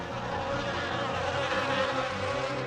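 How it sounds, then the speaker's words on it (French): A dense, steady drone of large swarms of flies buzzing together inside a house, continuous and fairly loud throughout with no pauses. "de gros essaims de mouches commencèrent à pénétrer dans la maison de Pharaon"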